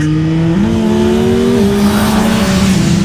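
A Yamaha Tracer 9 GT+ motorcycle engine pulling hard at full throttle, a loud, close, steady drone rising in pitch with a quick gear change partway through, under wind rush.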